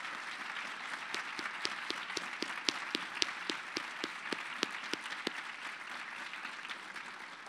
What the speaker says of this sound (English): Let's give Ambassador Quinn one more round of applause.